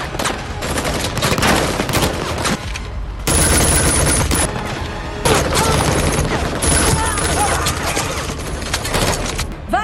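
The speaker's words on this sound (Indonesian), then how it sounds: "Para penjaga dan tentara bayaran yang dipimpin Richard datang dan mulai menembak" Sustained gunfire from a film scene, with mercenaries and guards shooting, loud bursts of rapid shots and booms running continuously, with brief drops between volleys.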